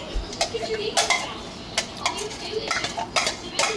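Mixed strawberries, blackberries and raspberries are stirred in a pan over medium heat, a utensil clinking and scraping against the pan in quick irregular knocks, close and fairly loud.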